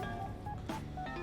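A phone ringing in the Persona 5 Strikers video game, a quiet electronic tone pattern of short repeated beeps in a steady rhythm.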